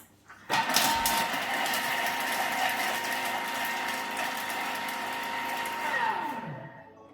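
A kitchen robot's bowl whirs into a steady high-speed chopping run on garlic for about five seconds at speed 6, loud and buzzing, then winds down with a falling pitch as the blades stop.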